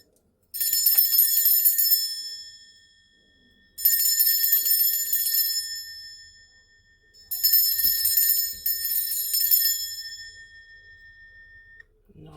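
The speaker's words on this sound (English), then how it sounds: "I'm going to be ringing a bell." A bell struck three times, each ring bright and shimmering with a long ringing decay, close and loud with nothing else around it, rung to cleanse a space.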